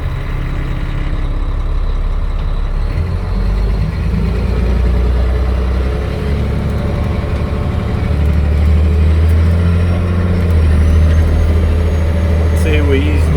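Loud 7-ton MTVR military truck driving past a school, a deep rumbling diesel drone heard from inside the cab that holds steady throughout, with the low engine note rising slightly near the end; someone talks over it.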